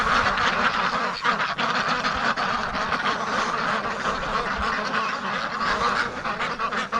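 Breeding ducks quacking outdoors, a dense continuous chorus of overlapping calls from several birds, loud and close with no pauses.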